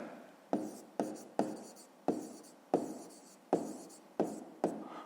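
A pen writing on paper during a fifth-grade maths exercise: a run of short, close scratchy strokes in an uneven rhythm, about eight or nine quick bursts, faint and with no talking over it.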